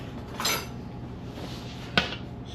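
A container of homemade sofrito is popped open in a firehouse kitchen, giving two brief clicks and clinks of a lid and utensils, close and fairly quiet over faint room noise.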